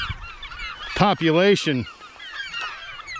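Large birds at a crowded nesting colony on a tiny gravel island in Lake Michigan give loud, harsh honking calls, with one close burst standing out over a steady background of distant cries and a brief spoken word.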